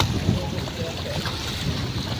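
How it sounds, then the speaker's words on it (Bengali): Strong wind blows over rough waves on the Meghna river at the Char Kishoreganj ferry ghat, a steady broadband rush of wind buffeting and churning water with fishing boats nearby. "নদীতে অনেক ঢেউ এবং স্রোত, অনেক বাতাস"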